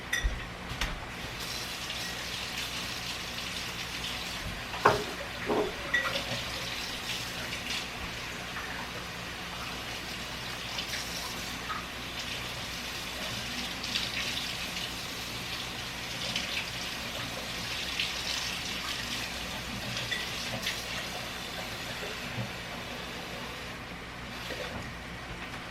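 A cup of water goes into a pan of sloppy joe mixture during home dinner cooking, producing a steady rushing, gushing wash of sound that lasts throughout with little change in level.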